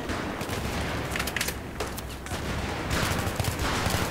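Gunfire in the video game Battlefield 3 sounds as a dense, continuous fusillade of rapid automatic shots and bursts, loud and steady without pause.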